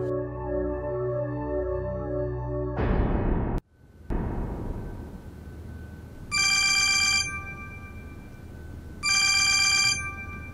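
A telephone bell rings loudly in two separate bursts in a quiet room, each ring about a second long, after a sustained musical tone cuts off abruptly.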